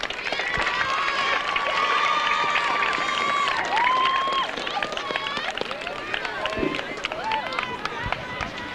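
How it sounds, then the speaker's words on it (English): A crowd at a 1998 high school football game's halftime homecoming ceremony claps and cheers for a candidate and her escort, with dense clapping, whoops and whistles rising and trailing off steadily over several seconds. "Let's give her and her escort a round of applause"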